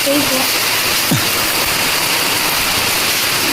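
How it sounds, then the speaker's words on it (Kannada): Rain falling during sunshine, a steady dense hiss of drops spread evenly across the short stretch, with no voices over it. "ಸಿಕ್ಕಾಪಟ್ಟೆ ಮಳೆ"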